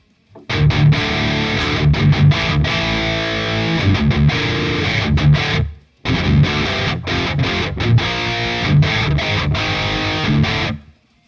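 Heavily distorted electric guitar run through amp simulation plugins, dialed in for old school death metal, chugging in loud dense riffs for about five seconds, a brief silent gap, then another five-second burst of the same crunching riff.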